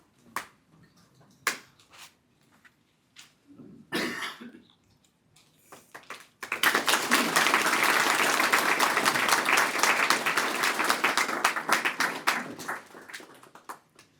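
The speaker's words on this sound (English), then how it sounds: "if we can just do one more round of applause for all those we're remembering tonight" Sustained, loud round of applause from an audience at a memorial medal ceremony in Marlborough, Massachusetts, following a few scattered claps and a cough; the clapping swells and holds for several seconds, then fades.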